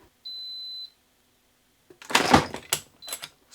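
A heat press timer gives a single steady electronic beep, used while melting adhesive onto leather patches, followed after a pause by rustling and handling noises.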